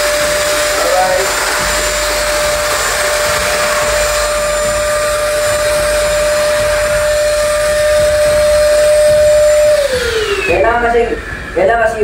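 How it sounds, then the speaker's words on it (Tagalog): A household vacuum cleaner drones steadily during house cleaning, a loud continuous whine that drops in pitch and winds down near the end as it is switched off, with a voice speaking over it. "Kailangan yung vacuum talaga."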